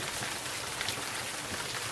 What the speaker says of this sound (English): It's dark outside, but the rain is pouring like crazy.